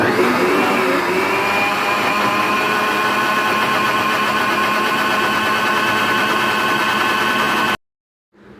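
A kitchen mixer grinder churns cream and cold water into butter, whirring loudly and steadily for several seconds, a continuous motor drone that stops abruptly near the end.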